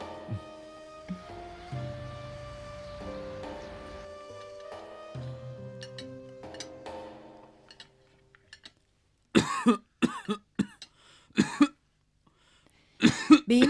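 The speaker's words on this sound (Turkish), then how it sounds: "sigara öksürüğüne tutuldu baba" After a stretch of quiet tonal background sound, a smoker breaks into several harsh, raspy coughs in bursts, close and loud, separated by silence.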